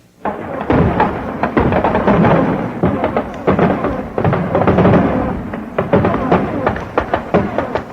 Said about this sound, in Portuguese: disposto a assustar o monstro com ruído de latas velhas, foguetes e até tiros de revólver e espingarda